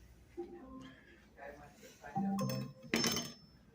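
A knife clinks and scrapes against dishes and a pan in a home kitchen while beef stew is being made, a few short bright metallic taps close by, mixed in with someone talking.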